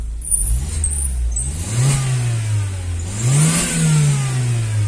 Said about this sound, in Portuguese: vou dar partida, ó. Ó o motorzão, que bala, ó.